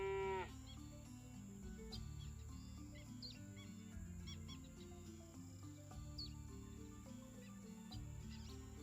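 A cow in a video game moos over steady looping game music and faint bird chirps, the low lowing sound blending into the continuous background.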